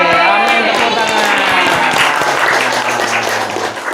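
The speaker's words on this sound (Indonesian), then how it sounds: "Wih, amin, tepuk tangan." Studio audience clapping on a talk show, a dense, steady burst of applause running throughout, with a low hum and faint voices underneath.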